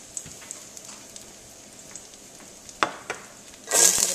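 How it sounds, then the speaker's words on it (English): Shallots frying in a pan give a light, steady sizzle with scattered pops and crackles, then a sudden louder burst of hissing near the end as more food hits hot oil. "the sizzling that you hear is actually from a different pan where I'm trying to fry up some shallots"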